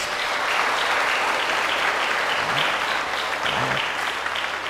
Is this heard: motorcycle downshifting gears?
no